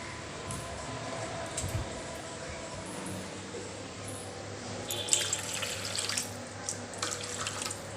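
Water is poured into marinated meat in a cooking pot, a quiet splashing trickle with a steady low hum beneath and a few brief louder splashes toward the end.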